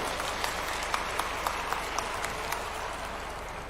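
Crowd applause welcoming the chief minister at a Madhya Pradesh gathering of hail-affected farmers, steady dense clapping from a large audience sustained throughout with no pause.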